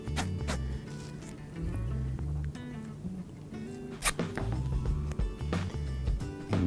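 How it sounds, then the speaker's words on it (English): Rigid sports tape is pulled off the roll and pressed flat along a knee during MCL/LCL strapping, giving repeated close ripping, zipper-like tears and crinkles with brief pauses between pulls. "And again, pulling on the tape, laying it down,"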